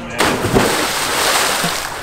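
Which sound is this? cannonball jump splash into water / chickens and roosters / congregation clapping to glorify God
cannonball jump splash into water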